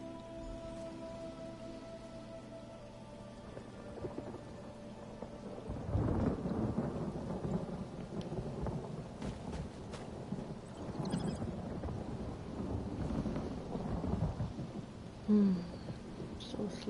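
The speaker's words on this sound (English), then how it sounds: "It's raining in the real world, and it's raining and cloudy here too." Rain and rolling thunder in the video game The Elder Scrolls Online, a steady soft patter of rain with low thunder rumbling in from about six seconds, fairly quiet and with no talk.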